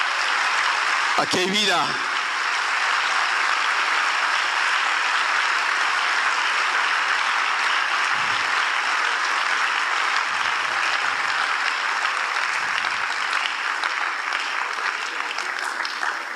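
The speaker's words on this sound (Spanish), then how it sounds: "Denle un fuerte aplauso al Señor." A church congregation at a national convention applauds, sustained dense clapping filling the whole stretch, with a voice speaking briefly over it early on and faint murmurs beneath.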